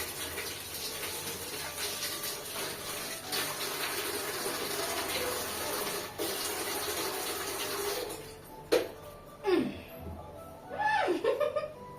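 A tap runs steadily as hands are washed after a meal, a continuous close splashing stream that fades out near the end, followed by a few brief voices and light laughter.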